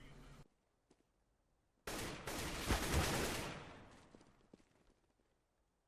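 Gunfire in a competitive Counter-Strike match, Mag 7 shotgun and AK rifle, erupts as a loud dense burst of shots after a brief quiet, then tails off into fainter scattered pops.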